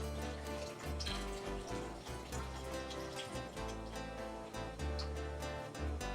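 Four cups (a 32-ounce carton) of beef broth pour into a pan for beef stew in a continuous, close liquid splash and gurgle that carries on for several seconds.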